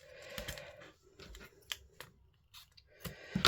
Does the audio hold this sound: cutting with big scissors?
yes